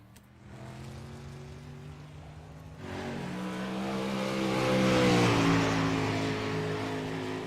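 A race car engine at Volusia Speedway Park revs and builds as the car rolls out onto the track, a steady growling drone that jumps louder partway through and swells to a peak before easing slightly.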